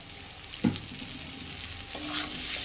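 Oil sizzles quietly and steadily in a pan as a taro flower curry fries, with one sharp utensil knock near the start and a soft stirring scrape later.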